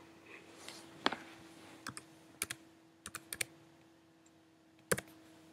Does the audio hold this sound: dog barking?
no